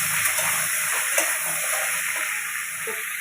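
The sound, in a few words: stirring stalks in a frying pan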